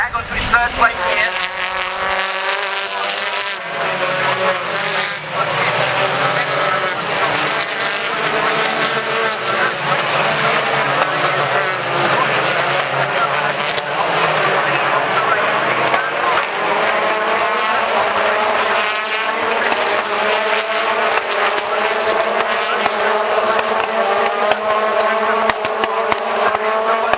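BTCC touring cars racing at Croft Circuit, accelerating onto the back straight: loud, continuous engine roar with rising and shifting revs throughout, close and dominant, with a commentator talking underneath.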